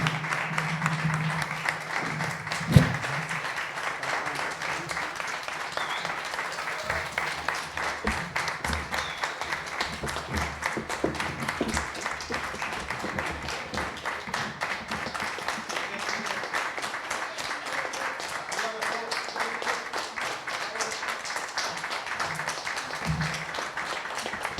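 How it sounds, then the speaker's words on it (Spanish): An audience at a talk with the President of the Madrid Assembly applauds steadily for the whole stretch, a dense even clapping that never lets up. "Yo creo que deberíamos seguir aplaudiendo y que vuelvan a saludar"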